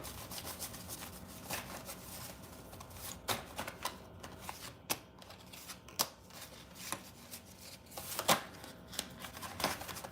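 A tarot card deck being shuffled by hand, with continuous papery riffling and rubbing and frequent sharp flicks as the cards slap together, fairly close and with no talking.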